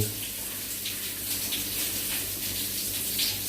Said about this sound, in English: It's good when you have a shower, you clean in your ears, around your ears.